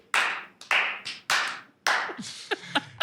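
Applause from a group of people, as passengers clap on landing at an airport, heard as several bursts of clapping with short gaps between them, close and fairly loud.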